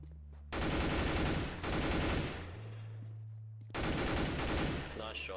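Rapid automatic gunfire and pistol shots ring out in a competitive Counter-Strike match, loud bursts in two long stretches separated by a quieter pause with a low hum.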